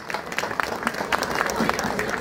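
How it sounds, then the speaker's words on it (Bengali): An audience at an award ceremony honouring the film actress Anowara claps loudly, a dense crackle of many hands that carries on steadily and sits close. "ওনার জন্য একটা হাততালি, জোরে হাততালি দিবেন প্লিজ"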